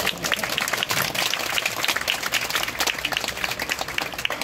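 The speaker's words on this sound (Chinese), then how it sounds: "这个要掌声非常热烈" An audience applauds at the opening of a university fine arts department graduation exhibition, with sustained, dense clapping from many hands throughout.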